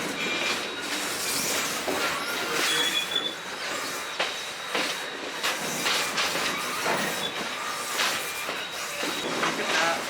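Steady rumble of a steam train on the Great Smoky Mountains Railroad rolling along the tracks, with rhythmic clacks, hissing, and occasional high squeals from the wheels, heard from inside a carriage.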